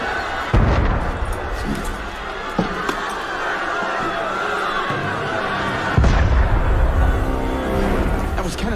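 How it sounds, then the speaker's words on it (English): Heavy cannon blasts boom out in Assassin's Creed Unity, one sharp hit near the start and another around six seconds in, over a rumbling din of crowd noise and commotion. "That was cannon fire."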